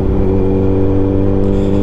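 Kawasaki Ninja 1000 motorcycle exhaust held at a steady, loud rev, a dense continuous engine drone with strong low harmonics and no voices.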